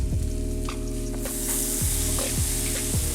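A buttered grilled cheese sandwich frying in a cast iron pan, a close steady sizzle that brightens midway as the sandwich is flipped, with a few soft knocks and scrapes over a constant low hum.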